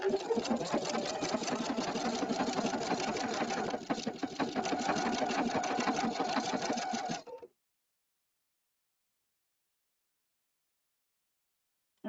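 An Epic 2 sewing machine stitches sequins with a steady fast mechanical whirring and needle clatter, loud and close, running for about seven seconds before stopping abruptly into silence.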